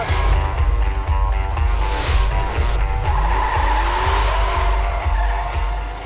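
A Chevelle skids hard during a staged car chase with a professional driver at the wheel, tires squealing in long wavering screeches over a loud, steady engine roar that runs throughout.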